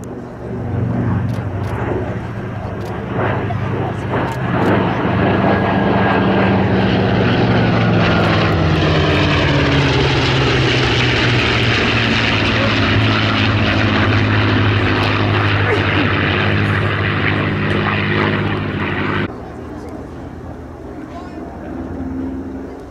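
A Mustang propeller aircraft flying at the Duxford air show gives a loud, throbbing engine drone whose pitch sweeps downward as it passes, then cuts to a quieter background near the end, with possible faint voices.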